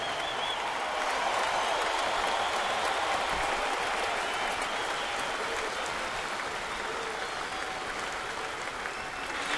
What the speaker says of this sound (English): Let's have a warm round of applause to thank these men for their sacrifices for